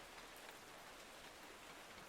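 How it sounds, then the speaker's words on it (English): Steady rain noise, a faint, even hiss that holds unbroken throughout with no voices. "But it was the rain noise."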